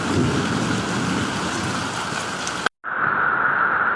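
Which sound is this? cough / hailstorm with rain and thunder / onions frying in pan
hailstorm with rain and thunder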